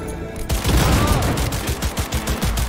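Skippy smart gun firing in Cyberpunk 2077, a rapid burst of loud, close gunshots in an uneven rhythm that runs on for over two seconds after a quiet start.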